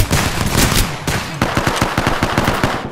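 Rapid bursts of shotgun and automatic gunfire in the battle royale game Apex Legends, loud and dense, with repeated sharp blasts in quick succession and no talk over them.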